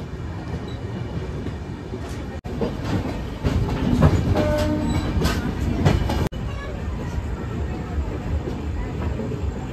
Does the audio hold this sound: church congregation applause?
no